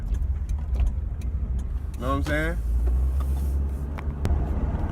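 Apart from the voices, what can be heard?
car engine running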